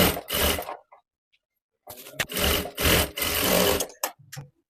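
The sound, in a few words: sewing machine double stitching a blouse fold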